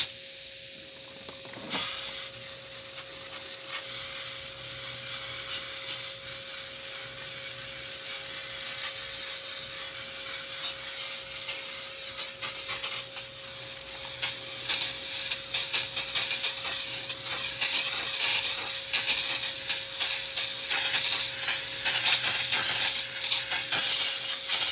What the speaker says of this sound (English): I can tell just from spraying it on these bars right here that it's breaking that crap up